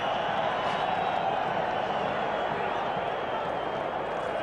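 Steady roar of a large stadium crowd at a South Africa versus New Zealand rugby test, a dense, continuous wash of voices throughout with no distinct cheers standing out.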